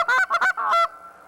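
A goose call tuned harder for a deeper tone is blown in three or four quick honks followed by a longer drawn note, loud and close with no other sound.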